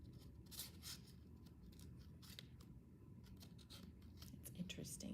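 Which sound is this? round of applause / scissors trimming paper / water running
scissors trimming paper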